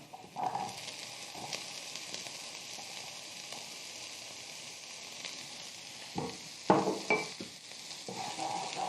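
Chopped red sweet pepper sizzles softly in a pan while being stirred. A quiet, steady frying hiss is broken by a few louder scrapes and clinks of the utensil against the pan.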